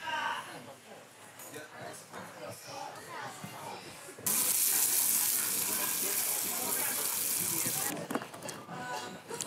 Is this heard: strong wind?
no